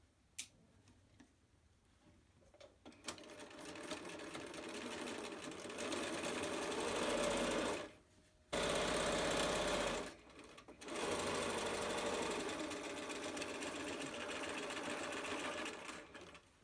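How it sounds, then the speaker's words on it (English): A sewing machine back stitches back and forth over elastic on a face mask, a steady whirring run that stops briefly twice before resuming, close and fairly loud throughout. "Back stitch back and forth over your elastic."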